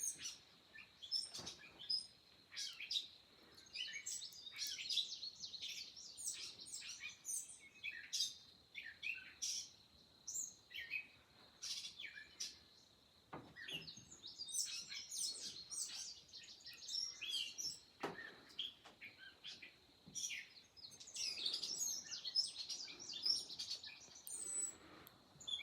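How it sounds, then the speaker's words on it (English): A bird sings a long run of varied chirps, whistles and squeaky phrases, moderately close, with brief pauses between bursts against a quiet background. "I think it's a catbird."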